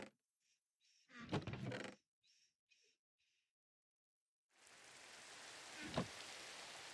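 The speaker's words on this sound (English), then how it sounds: "Oh, it's raining." Steady hiss of rain in the Minecraft video game fades in partway through and continues to the end, preceded by a few short in-game clicks and thuds with quiet gaps between them.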